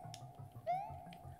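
A house cat gives a short rising meow close by, heard over a faint rhythmic background of soft repeated tapping.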